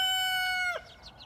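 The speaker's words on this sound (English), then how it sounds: "The roosters." A backyard rooster lets out a single long, loud, sustained crow that ends in a falling break, followed by a few faint chirping calls from other birds nearby.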